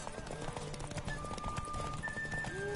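Rapid clip-clop of horse hooves galloping in The Witcher 3 video game, over a busy mix of game music and effects, with a brief whinny-like tone near the end.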